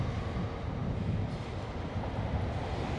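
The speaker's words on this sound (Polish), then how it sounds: "To jest akurat stacja kolejowa." A train runs at a rural railway station in the Netherlands, producing a steady, full-bodied rumble that holds at an even loudness throughout, with no voices.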